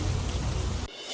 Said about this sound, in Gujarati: યાત્રાધામ પાવાગઢમાં મુશળધાર વરસાદ